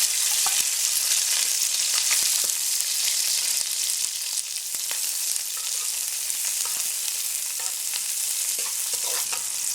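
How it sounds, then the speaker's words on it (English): Onions frying in hot oil for a Trinidad curry crab, a steady loud sizzle and crackle with occasional stirring clicks, continuous throughout with no talking. "So once our oil is hot, we're going to add in the onions,"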